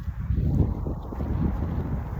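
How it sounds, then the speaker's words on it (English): Heavy, steady wind buffeting the microphone outdoors, a low continuous rumble with gusty surges. "is it windy out here?"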